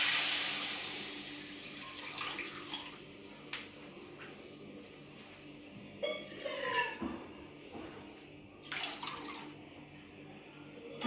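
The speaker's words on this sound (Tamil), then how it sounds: "அப்புறம் கடாயில் கொஞ்சம் தண்ணி விட்டு" Water is poured into a kadai (wok) while making paal kozhukattai. It gives a faint, uneven splashing and trickling close by, with a few brief metallic clinks and no talking.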